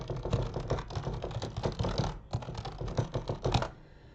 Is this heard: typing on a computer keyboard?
yes